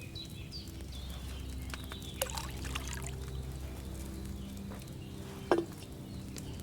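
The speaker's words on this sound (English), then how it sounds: "First, you have to pour the right base into the cauldron." Wine poured from a pitcher into an alchemy cauldron in the video game Kingdom Come Deliverance 2, a soft steady liquid trickle running under quiet ambience, punctuated by a brief clink near the end, with no talking.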